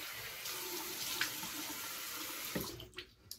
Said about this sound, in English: Now a cold water splash to close the pores.